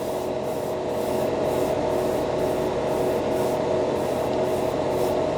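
Continuous hiss of an airbrush spraying Mr. Hobby Acrysion 88 metallic blue acrylic paint over gray primer on a scale model, steady and close with faint regular pulsing.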